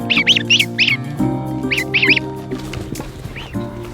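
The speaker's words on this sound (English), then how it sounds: "our guard geese are here" Young goslings, guard geese just picked up from the post office, peeping inside a box: clusters of high, rapid chirps in short bursts over a low background hum, close and fairly loud.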